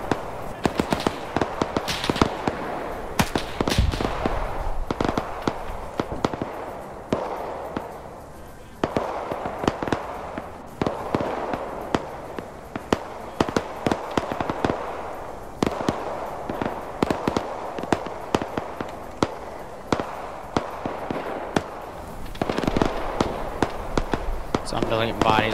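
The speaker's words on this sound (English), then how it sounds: "Doing a great job of these mortars, though, putting them ahead." Mortar rounds explode repeatedly in a WW2 battle game, with sharp bangs and crackling blasts scattered through the whole stretch while a voice talks over them.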